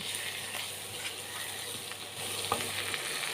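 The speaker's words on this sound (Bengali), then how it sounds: "এবার সব কিছু খুব ভালো করে একটু কষে নেব।" Spices and ginger paste stir-fried in a pan, a steady close sizzle with scraping stirs of a spoon throughout, no voices.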